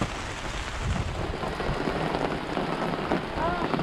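Steady rain falls on a farm during a visit to a goat farm being set up, a dense continuous hiss throughout with voices talking over it.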